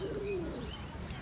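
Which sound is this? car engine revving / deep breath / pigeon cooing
pigeon cooing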